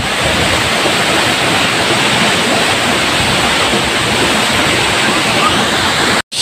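Katibawasan waterfall on Camiguin roars loud and close as a steady, dense rush of falling water that cuts off abruptly at the end.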